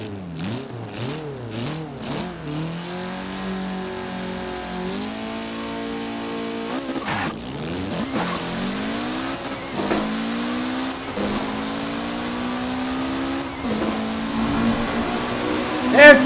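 A Mitsubishi Lancer Evo in Forza Horizon 4 accelerates hard along a highway, its engine climbing through repeated upshifts with sweeping rising pitch and brief breaks between gears, loud and continuous throughout.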